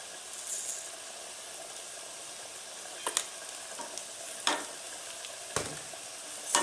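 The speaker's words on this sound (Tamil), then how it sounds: "சேர்த்த பிறகு நல்லா கிளறி விட்டுக்கோங்க." Bitter gourd fries in a pan, a steady quiet sizzle broken by several sharp scrapes and clatters as a spatula stirs it now and then, with no voice.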